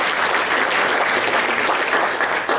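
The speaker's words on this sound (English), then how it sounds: "it's all right to clap for that" An audience claps steadily as a crowd, a dense, even burst of applause that stays full through the short stretch and trails slightly at the very end.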